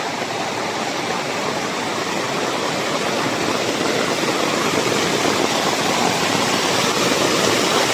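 Water rushes and pours continuously in a loud, steady roar as an irrigation canal overflows, with no voices.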